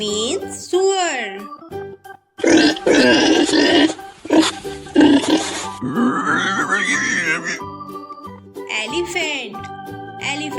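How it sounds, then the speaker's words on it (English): A pig grunts and squeals in a series of close, loud, choppy bursts with short pauses between them, and brief bright tinkling and snorting sounds mixed in. "Pig."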